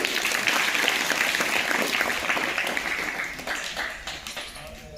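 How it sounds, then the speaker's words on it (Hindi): Classroom applause during a general knowledge lesson, a group clapping steadily and loudly, then thinning out toward the end. "जोरदार ताली बजाओ"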